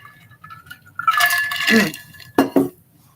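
A glass clinking and water being handled while someone gets a drink, a few close clinks and a short liquid splash against a quiet room.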